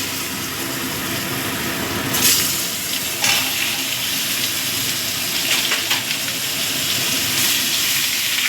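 Potato and papaya fry in a pan, a loud continuous hiss and sizzle with a few sharp bursts and stirring scrapes, close by.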